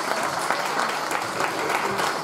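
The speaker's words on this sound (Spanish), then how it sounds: "Un aplauso para ella." An audience applauds an orchestra member during a student orchestra presentation, a steady, dense round of clapping from a crowd throughout, fairly loud, with faint voices underneath.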